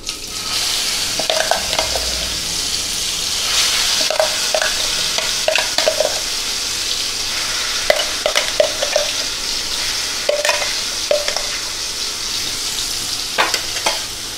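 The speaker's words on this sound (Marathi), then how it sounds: "आता हा मसाला आपल्याला छान तळून घ्यायचा आहे" Ground masala with cumin frying in hot oil, a steady close sizzle with repeated scraping and stirring strokes throughout, no talking.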